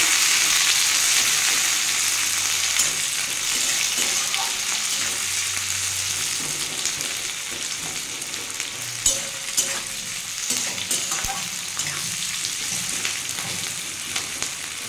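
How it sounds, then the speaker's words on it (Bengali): Onions frying with rubbed black cumin (nigella seeds) in a pan give a steady, close sizzle that eases off slightly, with scattered stirring clicks and taps in the second half and no speech. "আর একটু কালো জিরে হাতে ঘষে দিয়ে দিলাম। একটু পেঁয়াজ দিয়ে দিলাম।"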